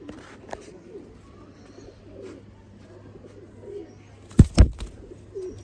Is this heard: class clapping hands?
no